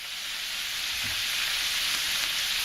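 Garlic sizzling in a frying pan with cabbage and bacon: a steady, loud, close hiss of frying oil that runs without break, with no talking.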